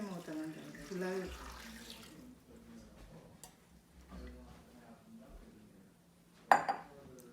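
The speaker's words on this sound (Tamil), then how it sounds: "ஃபுல்லாக ஊற்றிடுங்க, கொஞ்சம் கொஞ்சமாக ஊற்றலாம்." Hot liquid soap mixture is poured in liquid soap making, a soft trickling and splashing that comes and goes, with a person talking over it and a sharp clatter near the end.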